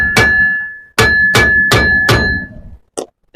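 A hammer knocks a bolt out of an RV suspension: five loud, ringing metallic strikes in quick succession, each leaving a short tone hanging, followed by a brief faint clink.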